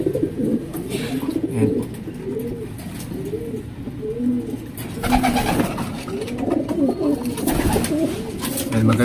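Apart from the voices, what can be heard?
pigeon cooing, breeder pigeon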